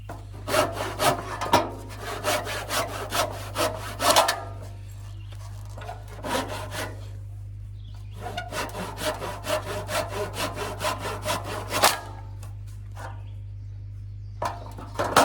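A handsaw cuts off excess wood on a gate or railing for an off-grid remote cabin. Close, rhythmic rasping strokes come in several bursts with short pauses between them, and a faint steady hum runs underneath.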